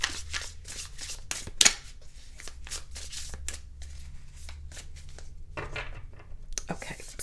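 A deck of tarot cards is shuffled up close in repeated crisp riffling bursts, with soft papery rustles between them and quiet speech faintly underneath.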